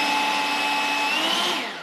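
A Toro 60V Flex Force cordless battery leaf blower runs on its turbo setting, a loud, steady, close airy whine that holds its pitch before winding down at the end.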